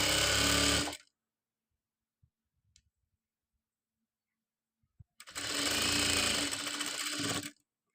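A sewing machine stitches a dori onto a long gown in two loud, close bursts of rapid whirring, about a second, then silence with a few soft clicks, then another two-second run.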